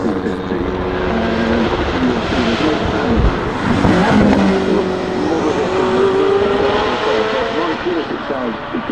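A loud prototype car's engine roars at the Goodwood Festival of Speed 2024 with a strong exhaust note, its pitch rising and falling as it revs, filling the whole stretch.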